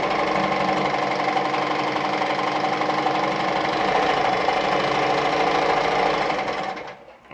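An Adlerina model 240A sewing machine runs steadily at a short stitch length, a close, continuous mechanical whir with a rapid rhythmic needle chatter that holds for about six seconds and then slows and stops.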